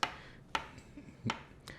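A knife chops hard-boiled eggs on a cutting board for chicken egg salad, giving four crisp, close knocks at uneven intervals, fairly quiet in a still kitchen.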